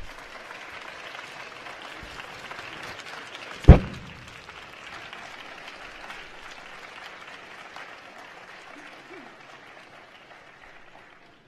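Long, fairly quiet round of applause from graduates and guests at a health sciences graduation ceremony, steady clapping from a large room with one sharp thump early on, slowly tapering off.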